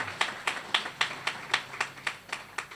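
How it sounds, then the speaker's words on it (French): An audience at a French-language sermon claps in a steady, even rhythm, about ten sharp claps ringing out close and clear with no voices over them. "Si c'est bon, applaudis pour toi-même."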